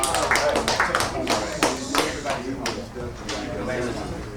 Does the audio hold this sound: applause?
yes